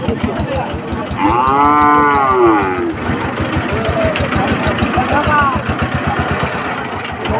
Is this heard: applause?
no